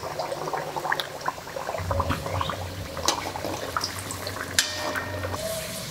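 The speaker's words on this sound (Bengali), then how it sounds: "আর আমি একটা একটা করে এক কটা ভেজে নেব।" Pea kachori (radhaballavi) sizzling in hot oil, a close, steady bubbling crackle with scattered sharp pops and a low rumble beneath.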